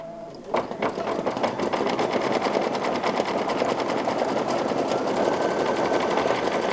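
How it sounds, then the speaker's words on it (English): Embroidery sewing machine stitching a pillow design, starting up and running at a fast, steady mechanical rattle, loud and close with no voices. "I'm going to press the start stop button and it will begin stitching."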